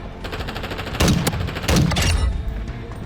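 Bursts of gunfire from Call of Duty: Modern Warfare 2, loud rapid shots over a steady din of battle, with heavier volleys near the one-second mark and again shortly after, sounding close.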